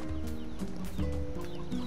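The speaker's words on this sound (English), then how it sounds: "Chicken." A chicken in the video game NieR Replicant clucks in a few short, repeated bursts, clear and close over a steady game background.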